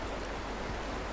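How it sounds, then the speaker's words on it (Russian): Waterfall in the video game Far Cry Primal, a brief dense rushing wash of falling water, loud and steady with no voices over it. "Тут водопад."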